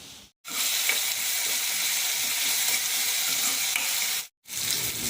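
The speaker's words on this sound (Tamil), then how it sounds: "தக்காளி கொஞ்சம் வதங்கிடுச்சு" Tomatoes sautéing in a pan for prawn kuzhambu, a loud, dense, continuous sizzle broken by two brief moments of silence.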